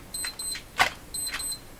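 An alarm clock beeping in the background of a workshop, three bursts of thin, high electronic beeps in a repeating pattern, fairly faint, with a louder clack or click between them.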